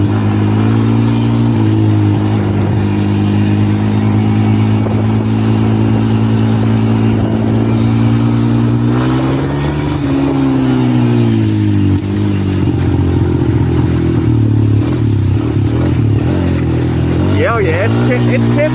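A small-displacement Honda TRX250EX ATV engine with no clutch drones steadily and loud throughout, its pitch rising and falling as the throttle is worked during a ride, with brief voices under the engine noise.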